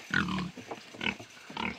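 Pigs grunting nearby in short irregular bursts, loud and close, with no talk over them.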